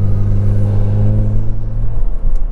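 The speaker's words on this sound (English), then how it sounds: "To capture great exhaust notes in this car." A Kia Stinger GT with an MBRP Pro exhaust drones from inside the cabin, a loud, deep steady engine hum that holds its pitch before easing off near the end.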